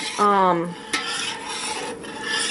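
A spoon stirs dark roux in a pot for gumbo, making soft rasping scrapes against the pot with a faint sizzle, close up, after a brief tonal sound at the start.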